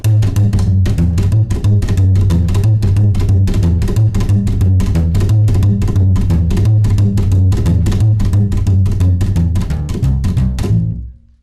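Upright bass in rockabilly slap style with a bouncier triple-slap pattern: a dense, driving run of fast percussive string slaps over a continuous plucked low bass line, loud and close, ending abruptly.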